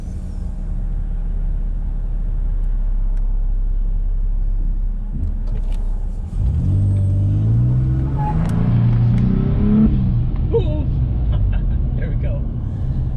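A Nissan Frontier pickup pulls out into traffic, its engine rumble rising from a steady idle into a louder, climbing acceleration partway through, close and continuous with road noise.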